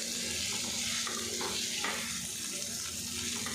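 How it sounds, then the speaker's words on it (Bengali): Papaya and Gobindobhog rice sauté with spices in a hot pan, giving a steady, close sizzle with faint stirring scrapes throughout. "এবারে এর মধ্যে দিয়ে দেবো পেঁপে, দিয়ে দেবো গোবিন্দভোগ চাল, মশলার সাথে একসঙ্গে কষিয়ে নেব।"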